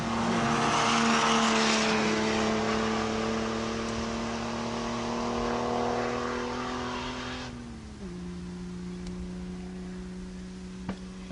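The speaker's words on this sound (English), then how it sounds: "Here goes the Mazda." A Mazda driving past on the Bridgehampton race track during a lapping session, its engine droning steadily at a distance then dropping in pitch as it passes and fades, with no talking.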